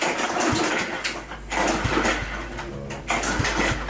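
An engine cranks in rhythmic bursts over a low steady hum, turning over repeatedly without catching, heard close up with no voices.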